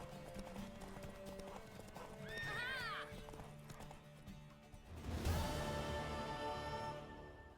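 A horse from the game Witcher 3 clip-clops and whinnies, with one rising, wavering neigh early on and a burst of hoofbeats later, over ambient game sound and music.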